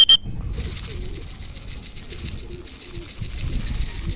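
A pet pigeon coos in low, soft, repeated warbles close by, beneath steady outdoor background noise, after a short sharp sound at the start.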